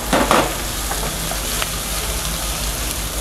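Onion and garlic hit a hot wok with a sharp initial burst, then settle into a steady hiss and crackle of frying with occasional small pops.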